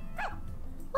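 A puppy in the farming video game Story of Seasons: A Wonderful Life gives a short, bright bark, then a second yip starts right at the end, close and clear over a soft game background.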